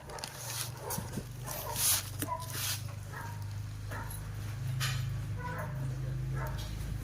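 A dog gives short barks and whimpering yelps close by against a steady low hum and background noise, in a rural Filipino setting where people are handling a cobra.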